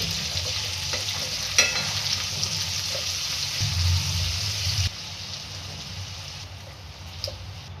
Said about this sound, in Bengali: মাছগুলো তেলে ভাজা হয়ে গেছে